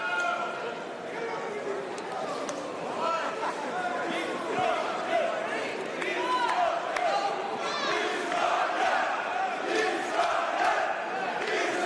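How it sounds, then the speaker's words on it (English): A boxing arena crowd at Techport chants for an Uzbek fighter, a rhythmic mass of voices and cheering that swells and rolls on steadily, with commentary talking over it. "Uzbek chants coming from the crowd here at Techport"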